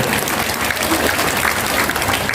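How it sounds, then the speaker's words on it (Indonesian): Loud, dense applause from a large crowd at a citywide ecumenical Easter gathering in Batam, a continuous wash of many hands clapping close and evenly throughout, with no speech over it. "Tepuk tangan untuk mereka semuanya."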